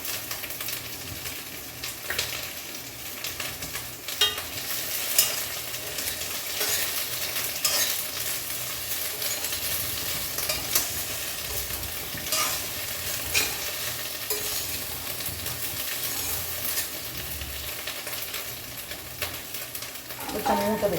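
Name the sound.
carom leaves and cumin frying in a pan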